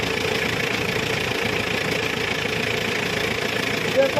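An engine with a propeller turning inside runs at a steady idle, rumbling and vibrating close by with a faint knocking texture, continuous and without variation.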